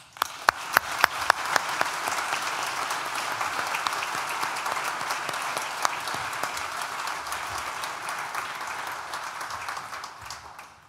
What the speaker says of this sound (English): please join me once again for a big collective round of applause